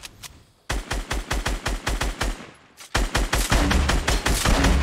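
Gunshots from the Fortnite battle royale game, a rapid string of sharp, loud shots in quick rhythm, a short pause, then another dense burst of fire that continues to the end.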